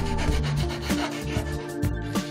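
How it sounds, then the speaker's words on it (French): A file and hand saw work the edge of a wooden circle, producing rhythmic rasping strokes with gritty scraping, close and fairly quiet with no speech. "Nous le découpons grossièrement à la scie sauteuse avant de finaliser à la scie à bois et à la lime"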